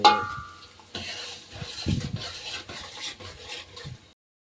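Onions and potatoes cooking in a pan for Maggi noodles, with soft stirring scrapes and light clinks of a utensil over a faint sizzle, close and fairly quiet, no talking.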